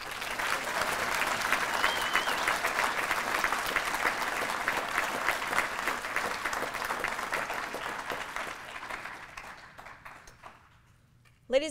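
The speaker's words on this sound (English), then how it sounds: "please join me in another round of applause for these graduates receiving their wings and insignia" An audience at a U.S. Army aviation advanced individual training graduation ceremony applauds graduates receiving their wings and insignia, a long steady round of clapping that gradually thins and fades out, ending with a brief voice.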